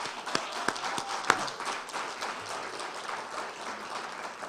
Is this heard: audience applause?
yes